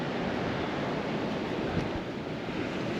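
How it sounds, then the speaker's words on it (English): Pacific Ocean surf washes in a steady, broad roar, mixed with wind buffeting the microphone and no voices. "Looking out at the Pacific Ocean."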